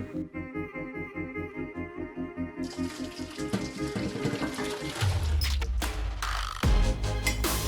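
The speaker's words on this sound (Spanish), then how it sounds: "Después de 15 minutos puedes descartar el agua." Water glugs in a rhythmic pulse as it is poured out of a glass jar, then pours in a steady, splashing stream that grows louder toward the end.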